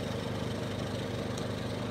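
A Honda portable generator revved high under a heavy load while charging house batteries, a steady, faint mechanical drone with no change in pitch.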